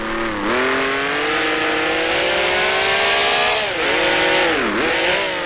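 An Alfa Romeo T33 race car engine at the Targa Florio in Grand Prix Legends with a 1971 World Sportscars mod, a loud, close, continuous mechanical howl with rising revs and several quick dips and recoveries as it shifts through gears.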